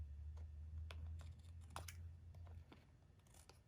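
Old rubber-handled craft scissors snip through paper in a quick series of crisp, separate cuts, heard close and fairly quiet over a low steady hum.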